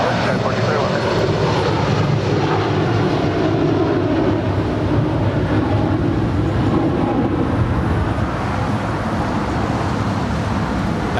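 Boeing 777 jet on a two-mile final approach to runway 25L at LAX, a loud continuous engine drone with a low rumble holding steady throughout, with voices over it.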